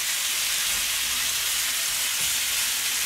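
Veal medallions sear on a hot griddle plate, a constant close sizzle and crackle of frying meat with no talk over it.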